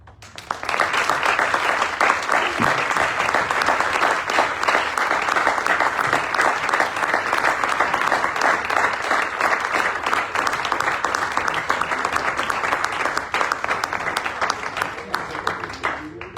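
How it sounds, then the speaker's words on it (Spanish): Sustained audience applause at a Kerouac literary festival in New York, dense clapping that swells quickly and holds steady and loud for over fifteen seconds before easing slightly at the end. "un fuerte aplauso para ella"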